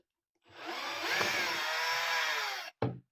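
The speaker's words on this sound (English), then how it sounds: "So we'll start off by taking screws out." A small power screwdriver whirs steadily for a couple of seconds while removing screws from a Tamiya TT01 RC car, a close, even high-pitched drone that stops abruptly, followed by a short second burst.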